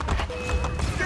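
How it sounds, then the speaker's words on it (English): Horse hooves clip-clopping in Assassin's Creed: Brotherhood, a quick run of close, loud hoofbeats heard in a brief burst under game sound and a voice talking. "Can I grab my horse right quick?"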